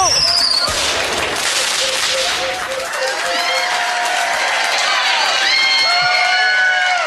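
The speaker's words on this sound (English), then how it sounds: "Give him a round of applause." Trivia-night audience clapping and cheering for the quiz winners, a sustained wash of applause with whoops, loud throughout and with a few voices calling out over it.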